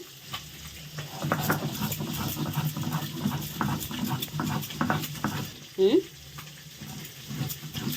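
Mustard seeds, poppy seeds and chili are ground into a paste with salt and cashew, making repeated rhythmic scraping strokes that run steadily throughout at moderate loudness, with a brief louder scrape near the end.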